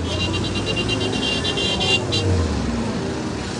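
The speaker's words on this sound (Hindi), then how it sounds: "ये गाड़ियां जा रही हैं" Cars and motorbikes roll steadily past on a crowded pilgrimage road during the Arbaeen walk to Karbala, with a couple of short horn toots breaking through the constant close traffic rumble.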